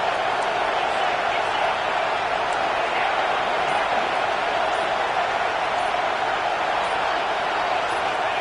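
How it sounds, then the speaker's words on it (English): Stadium crowd in a Madden football game on PS5 cheering for the defense during a red-zone stand, a steady, dense roar that holds at even loudness throughout with no pauses. "The crowd getting behind this defense as they try to get a stop in the red zone"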